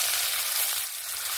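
Onion hits hot oil already frying cumin seeds and bay leaf, giving a loud, continuous close-up sizzle and hiss with no talking.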